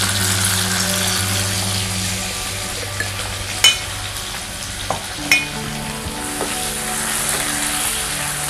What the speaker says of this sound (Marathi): हे आता छानपैकी हे जरा आपण परतून घेऊया, नाहीतर मग कांदा ना कच्चा कच्चा राहतो।